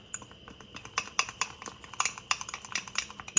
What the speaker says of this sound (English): And we're going to give it a good stir.